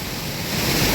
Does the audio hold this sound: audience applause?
no